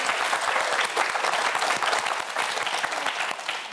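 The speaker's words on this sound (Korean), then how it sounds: "박수 한번 보내주세요" A studio audience at a Korean TV science quiz show claps loudly and steadily, a dense close wash of many hands with no voices over it.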